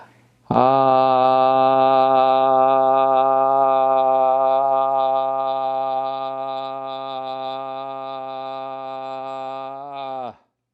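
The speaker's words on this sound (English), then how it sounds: "We take a deep breath in and we let that whole breath out." A single sustained vocal tone, steady and resonant, held for about ten seconds after a quick intake, then cut off cleanly.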